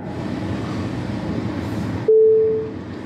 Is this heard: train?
yes